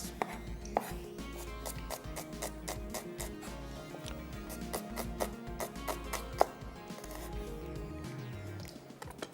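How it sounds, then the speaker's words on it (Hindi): Onions are sliced with a knife on a board, a quick run of crisp, regular chopping taps close up, steady and fairly quiet, with no talking. "यहाँ पे प्याज जो है हमारी, इसको हमने करना है स्लाइस"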